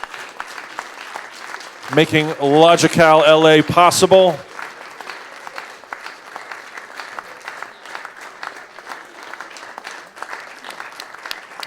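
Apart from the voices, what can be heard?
audience applause at conference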